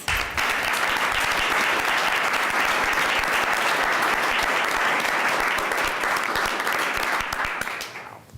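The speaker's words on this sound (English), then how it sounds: "Please give her a round of applause." Sustained applause from a crowd at a college board of trustees meeting, dense steady clapping for several seconds before tapering off at the end.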